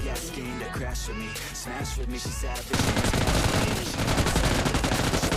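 Automatic gunfire spraying in PUBG Lite, a dense, loud continuous burst of rapid shots over a steady game soundscape, becoming heavier and more sustained halfway through, with no talking.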